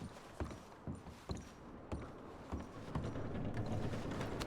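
Horse hooves clopping on ground in Red Dead Redemption 2, a series of distinct soft thuds at an uneven walking pace, fairly quiet, giving way to a continuous rustling noise near the end.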